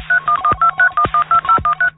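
A telephone keypad sounds a quick run of about ten DTMF dialing tones, each a short clean beep in a regular rhythm, loud and close with nothing else behind them.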